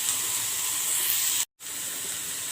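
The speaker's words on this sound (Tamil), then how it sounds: "இதில் கொஞ்சமாக உப்பு ஆட் பண்ணிவிட்டு நல்லா வணக்கி எடுத்துக்கலாங்க." Chopped onions with a little salt sauté in a hot pan for a masala bread toast, giving a steady close sizzle and hiss that breaks off briefly before resuming, with no voices.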